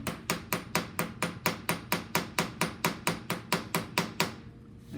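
A ball peen hammer taps metal in a dapping block with light, evenly spaced strikes, about seventeen sharp metallic hits in quick steady rhythm, close and clear, with no talk.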